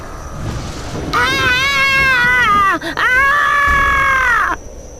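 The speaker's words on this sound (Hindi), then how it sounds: "इतना सुनने के बाद ही वो जोरों से चिल्लाई" A woman in an animated horror story lets out a loud, drawn-out wailing scream that breaks briefly and then resumes before cutting off, over a faint background hum.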